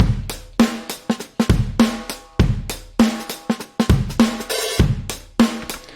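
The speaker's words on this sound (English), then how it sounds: "this is just some drums coming from Addictive Drums, and they're one of the funk patches" A funk drum pattern from an Addictive Drums patch plays alone, a tight, punchy groove of kick, snare and hi-hat hits in a steady syncopated rhythm, loud and close.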